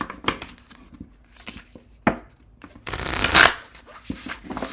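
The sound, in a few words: shuffling tarot cards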